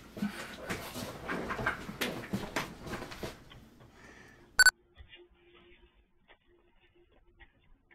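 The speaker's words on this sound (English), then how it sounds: "I heard this little dog bark" A small dog barks once, sharp and loud, after a stretch of steady background noise, then faint scattered whimpers and small sounds follow in a quiet room.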